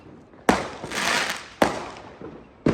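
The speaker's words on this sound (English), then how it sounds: "there's already fireworks" Fireworks bursting on bonfire night, three sharp loud bangs spaced about a second apart, each followed by a crackling, fizzing tail that fades out.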